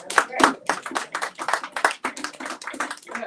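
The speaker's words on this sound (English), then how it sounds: "Y'all give him a round of applause" A small group claps steadily, a brief warm round of applause with no voices over it.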